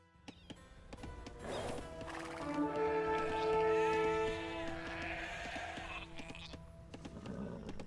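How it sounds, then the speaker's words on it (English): Sheep bleat in the Age of Empires II game, giving one drawn-out, wavering bleat over game background sound and scattered clicks. "Yeah, let's get these sheep to Kestitis"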